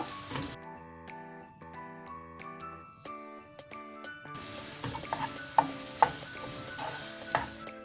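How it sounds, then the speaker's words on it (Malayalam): Onions sauté in a pan for Kerala-style mutton curry, with a soft sizzle and intermittent scraping and clinking of a stirring spoon, and a few sharper knocks, all heard beneath tonal background music. "ഇനി ഇത് നന്നായിട്ട് നമുക്കിത് നല്ലതായിട്ട് ഒന്ന് വഴറ്റിയെടുക്കാം."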